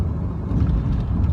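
A 7.3 diesel truck engine idles steadily up close, a continuous low rumble with no talk over it.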